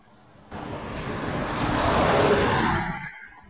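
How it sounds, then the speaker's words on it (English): A red London bus passing on a residential street in Farnborough, Kent, its engine roar rising abruptly, swelling close by, then fading as it moves away, heard alone without talk. "Bus."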